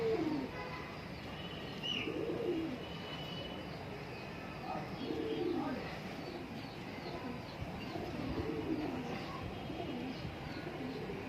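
Ghazzar pigeons for sale at a Cairo Friday market coo in low, repeated rolling calls every few seconds, set against a busy, steady background bustle with faint chirps.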